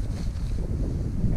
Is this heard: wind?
yes